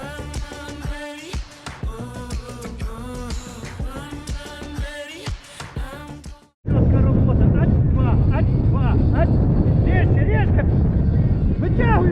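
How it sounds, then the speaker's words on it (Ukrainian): Strong headwind roars over the microphone while riding a gravel bike, a dense steady rush that suddenly takes over after a stretch of other sound and stays loud to the end. "Вітер вхарює, я підалік. Ох да, проти вітра."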